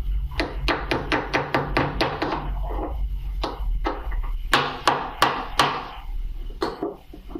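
A wooden arcade control panel part is being knocked gently with a hammer, giving a quick run of sharp wooden taps, then a pause and a few more close, firm strikes.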